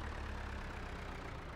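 Tractor engine runs steadily while dragging logs out of a wood lot, a low droning rumble at constant pitch, faint and alone without talk.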